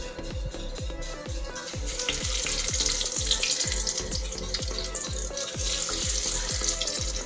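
Batter fritters frying in a pan of hot oil give a steady, close sizzle with a regular soft thumping pulse underneath. No one speaks.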